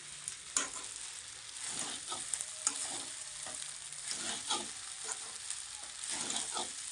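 Khichdi fries in a pan with a steady, close sizzle while a spoon stirs and scrapes through it in repeated strokes. No voice is heard.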